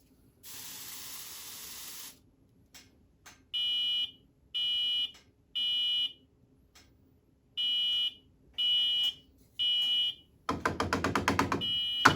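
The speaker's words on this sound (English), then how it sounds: "the alarm stopped before I could do anything" A loud spray hiss, then a Firex smoke alarm sounds a series of shrill, evenly spaced beeps about once a second, ending in a burst of hissing.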